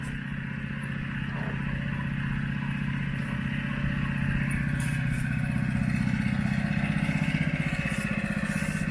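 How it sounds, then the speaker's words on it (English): A gas-powered sprayer for thick Texcote primer runs steadily through the whole stretch, a constant mid-pitched engine drone with a faint rattle, at fairly close range with no speech. "It's a gas-powered sprayer, 8900 plus."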